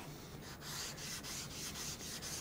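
A chisel rubbed back and forth on the 800 grit side of a Suehiro Japanese 320-800 combination whetstone, a steady gritty scraping in even strokes, close up and continuous.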